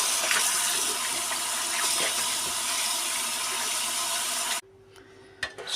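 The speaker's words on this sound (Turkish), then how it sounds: "Bol suda yıkayalım ki çabuk soğusun." Boiled potatoes get rinsed under plenty of running water, a steady close gush and splash that stops abruptly near the end, leaving a faint knock.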